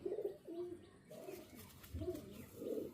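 Malwai pigeon kept indoors, cooing in soft repeated throaty bursts close by, with someone talking over the calls throughout.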